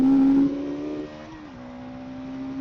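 A motorcycle engine revs after a service with a new fuel filter and air filter, a loud steady engine tone that drops in pitch and settles to a lower hum, with no talking.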